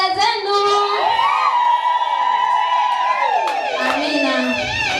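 A women's church congregation cheers and shouts together, a sustained loud crowd of overlapping high voices with whoops rising and falling throughout.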